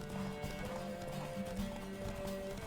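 Steady clip-clop of horse hooves on a road while riding in The Witcher 3, a continuous rhythmic gait under ambient game sound and faint music.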